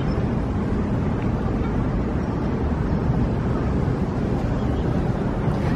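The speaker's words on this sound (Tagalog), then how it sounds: "Malamig ang simoy ng hangin." Constant wind buffeting the microphone outdoors, a heavy low rumble that stays loud and steady throughout with no clear voices.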